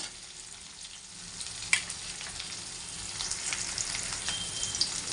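Chopped onion sizzles in hot oil in a pan, a soft continuous crackle punctuated by a few sharper clicks and a slight rise as the frying goes on, with no one talking.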